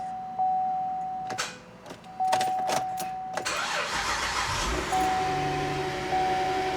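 A 2011 GMC Acadia, previously failing to crank because of a blown fuse, cranks briefly and fires up, settling into a steady idle, close and fairly loud, with a few clicks before the engine catches.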